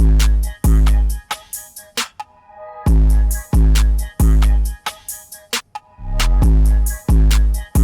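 Full hip-hop beat with melody and drums cut off together at the same points, loud and punchy, with heavy bass hits and pauses where everything drops out at once.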